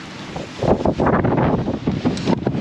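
Wind buffets the microphone aboard a sailboat under sail, a loud, gusting roar that swells and dips continuously, with water noise mixed underneath.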